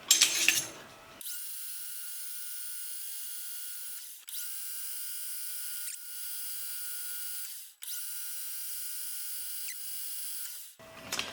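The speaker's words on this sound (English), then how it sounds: "we're gonna have to finish drilling that hole just because I messed up" A drill bores a hole in a shell mill arbor with a high, steady whine that dips briefly several times as the feed eases off, loud and close, starting and stopping abruptly.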